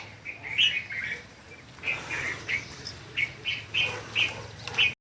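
Small birds calling on a foggy early morning walk, a run of short repeated chirps at a moderate distance over a faint hum of insects and quiet outdoor air.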